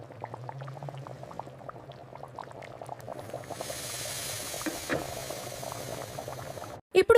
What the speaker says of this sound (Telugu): ఇప్పుడు మంచి స్మెల్ వచ్చే వరకు బాయిల్ చేయండి.